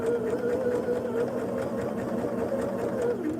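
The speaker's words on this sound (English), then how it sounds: "I stitch up as close to that pin as I can to make sure my point stays good" A sewing machine stitches a quilt seam on a Geese Around the Crazy Heart block, its motor whirring in a continuous, close, even buzz with no voices.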